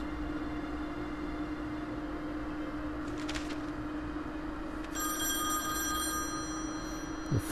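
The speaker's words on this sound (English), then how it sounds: "The phone rings." A telephone rings in The Wolf Among Us, a game set in a Fables version of 1980s New York: a sustained electronic bell tone arrives partway through over a steady low ambient hum, moderately loud and close, with no talking.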